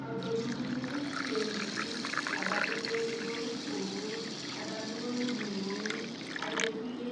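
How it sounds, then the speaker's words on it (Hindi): Water pours into a pan of sugar to make syrup, a steady splashing stream running throughout at close range, with faint household noise behind it. "अब हम इसमें पानी ऐड कर देंगे।"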